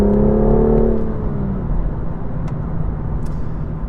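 BMW M2 CS engine revving high with a strong, continuous rumble and whir, loud and steady, falling slightly in pitch after the first second as the revs settle.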